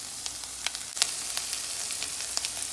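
Garlic frying in oil in a pan while being stirred, a steady close sizzle with scattered sharp crackles and pops, no talking.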